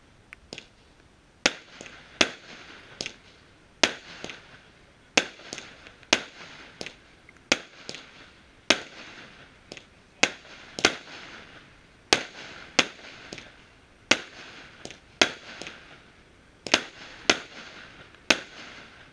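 Cassiopeia firework battery, 20 mm, 16 shots of coloured stars and comets, fired outdoors at a New Year's Eve preview show: a steady series of sharp, loud bursts, roughly one every second, each with a short crackling tail.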